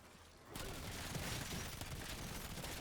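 Rapid sustained gunfire from the video game Black Ops 7 Zombies, a loud continuous burst that erupts after a quieter moment and keeps hammering without pause.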